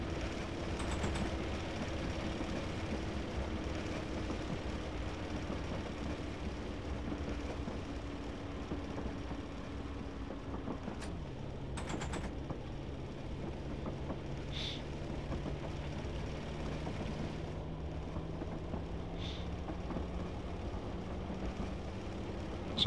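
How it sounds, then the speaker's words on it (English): A class 121 Bubble car diesel railcar in a train simulator game drones along with a steady low engine hum and gear whine, the pitch stepping down midway and slowly rising again, with faint clicks on top. "the sounds are very repetitive with the gears and the engine"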